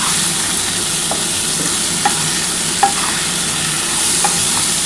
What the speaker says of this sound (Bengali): এবার খুব ভালো করে কিন্তু একটু নাড়াচাড়া করে নিতে হবে।